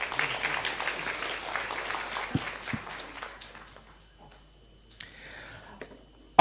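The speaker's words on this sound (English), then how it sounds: "Please, round of applause for Dr. Wang, everybody." An audience at a health hackathon opening day in Singapore applauds for Dr. Wang, a dense burst of clapping that thins and fades to silence within about four seconds, followed by faint room noise.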